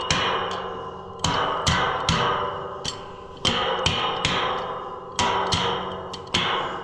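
A hammer knocks on metal during fence building in a steady series of sharp, ringing blows, each decaying quickly, close up with no talking.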